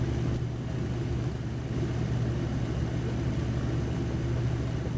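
Train engine rumble in the Poppy Playtime video game, a steady, loud, low droning hum that holds unbroken and close throughout, with no voice over it.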